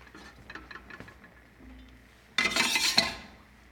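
Drained pasta is stirred into melted cheese in a pot, producing soft scraping and knocking of a utensil against the metal, then a louder, wetter burst of sloshing and clinking near the end, close by.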